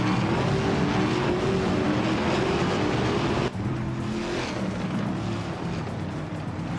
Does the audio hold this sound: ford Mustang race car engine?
yes